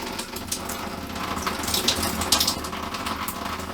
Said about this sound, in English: Pump will pick that antifreeze up here in a second.